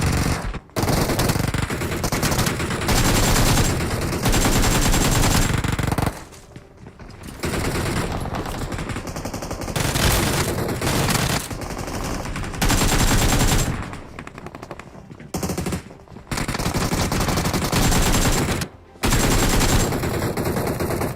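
Gunfire in the mobile shooter BGMI rattles out in loud, sustained automatic bursts, dense and close, broken by a few short pauses over about twenty seconds.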